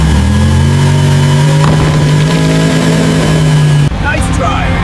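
A cartoon tractor engine revs hard and loud, a steady droning roar with rising pitch that cuts off abruptly near the end, with voices speaking over it.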